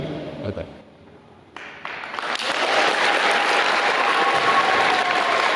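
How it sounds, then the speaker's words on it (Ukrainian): An audience at a gathering in Mykolaiv marking Armed Forces Day applauds a speaker. Quiet room sounds come first, then sustained clapping swells to a loud, even roar and holds. "Такими оплесками вітали Богдана ще не один раз під час його промови"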